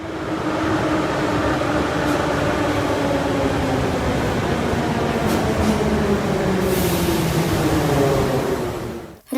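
Kyiv metro cars of the 7021/7022 series run along the track, with a continuous loud rumble of wheels and running gear and a rising and falling motor whine that fades out abruptly at the end.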